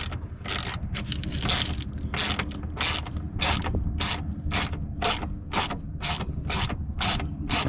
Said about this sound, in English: taking 3 10mm bolts out